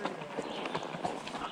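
A horse walks along an outdoor trail, its hooves clip-clopping in a steady rhythm close by, with a voice talking over the footfalls.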